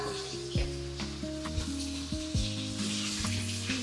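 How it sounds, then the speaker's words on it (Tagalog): Tilapia fries in a pan with a steady, close sizzle and crackle that runs alone for a few seconds. "Nagpiprito ako ng tilapia."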